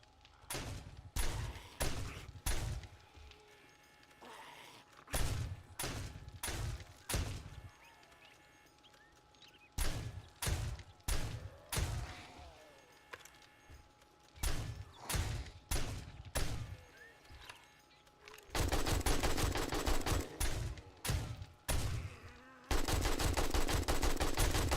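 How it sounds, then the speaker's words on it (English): Shotgun turret firing in 7 Days to Die: loud, close bursts of rapid, sharp blasts in quick clusters separated by short pauses, then denser, nearly continuous fire toward the end, with a faint insect-like buzz underneath. "Try out my shotgun turret."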